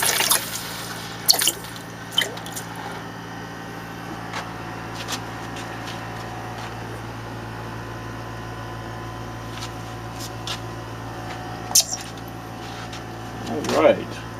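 Molten silver poured from a thick crucible into water to form silver shot gives scattered sharp sizzles and drips over a low steady hum, with a louder hissing burst near the end.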